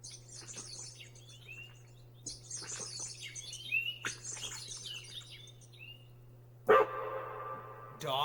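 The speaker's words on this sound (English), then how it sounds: "They have a bird sound on here?" Bird sound effect from a Roland GO KEYS 3 keyboard: chirping, tweeting birdsong in repeated bursts over a steady low hum, then a louder buzzy tone near the end.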